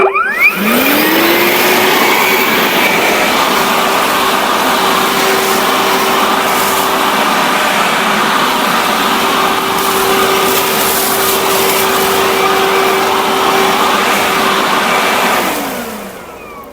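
A Makita DUB363 cordless leaf blower whines at a steady, high-pitched drone for about fifteen seconds, clearing fallen leaves in a forest, spinning up at the start and winding down at the end, loud and close.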